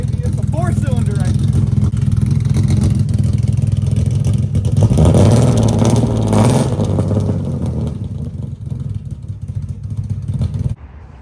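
Blown BMW M52 inline-six running on two dead cylinders, a loud rough idling engine with uneven clattering pulses that swells in the middle and cuts off abruptly near the end, with a voice heard over it.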